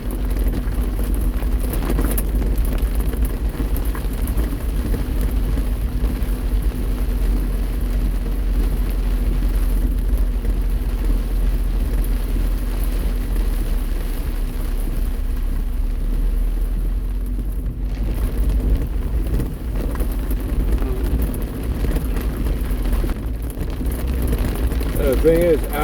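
Rain falls on a moving car during a drive, heard from inside the cabin as a constant broadband hiss over a low road rumble, with no clear change across almost half a minute.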